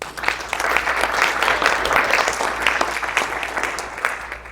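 An audience bursts into a loud round of applause at a leadership workshop, many hands clapping in a thick, lively wash that swells and stays strong, close and full throughout, with no talk over it.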